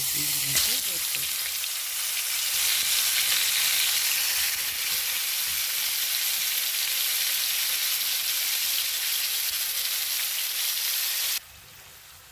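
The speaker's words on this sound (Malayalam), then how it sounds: "ഇനി ഇത് നമുക്ക് ചൂടായ എണ്ണയിലിട്ട് നന്നായിട്ട് വറുത്തെടുക്കാം" Spice-rubbed white fish fillets fry in hot oil with a loud, steady, close sizzle and hiss that holds for about eleven seconds, then cuts off abruptly.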